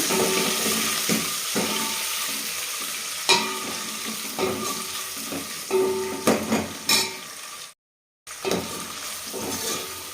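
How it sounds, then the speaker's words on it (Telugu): Onions and green chillies for pumpkin sambar frying in a pan with steady sizzle, punctuated by repeated stirring scrapes and clatters, close by, with a brief silent gap near the end. "ఇది మంచిగా వే వేపుకోవాలండి ఫ్రై చేసుకోవాలి"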